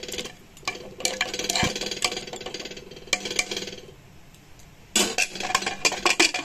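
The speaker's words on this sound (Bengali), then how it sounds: "ঢাকনাটা বন্ধ করে দিলাম।" A pressure cooker holding goat meat and hot water has its metal lid fitted and closed, producing close clanks and scraping taps in several bursts with quieter pauses between.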